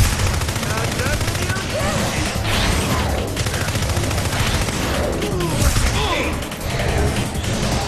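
Repeated shotgun blasts and rapid gunfire ring out in the NeverDead video game, loud and dense throughout with crashing impacts, game effects and faint voices mixed in.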